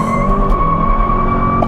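A 2022 Kia K5 GT sedan does a launch-control burnout, its engine roaring loud and near with a sustained tire squeal and no talking.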